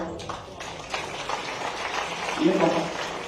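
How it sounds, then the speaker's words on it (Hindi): An audience at a public ceremony honouring woman cricketer Kranti Goud, with the chief minister present, breaks into moderate, steady clapping that builds slightly toward the end, with voices mixed in. "एक बार जोरदार तालियां।"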